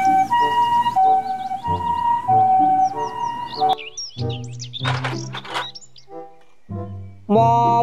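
A toy ambulance's wailing two-tone siren rises and falls over steady tones for a few seconds, then gives way to chirpy bird-like calls and music.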